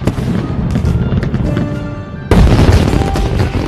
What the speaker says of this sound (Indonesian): Tepat di waktu itu, Wang Duo menyalakan seluruh kembang api di kota itu.